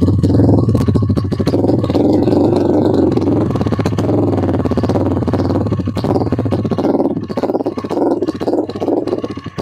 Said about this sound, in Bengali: আমি যদি একটু রেভ করি তাহলে আসলে সাউন্ডটা কিরকম লাগে এটাও সেটাও শুনেন